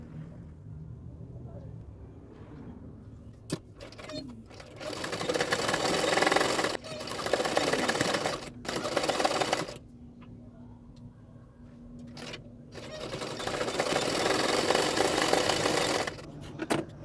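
A sewing machine runs in bursts while stitching a blouse, its rapid whirring pauses and restarts several times, with someone talking between runs.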